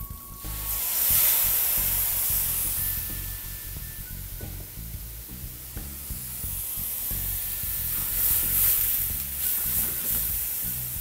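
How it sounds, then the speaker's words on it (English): Mushrooms sizzle in an oiled pan as dry white wine is poured in to deglaze, a steady loud hiss and spitting crackle running the whole time with bursts of sharper steam. "we're going to deglaze the pan with some dry white wine"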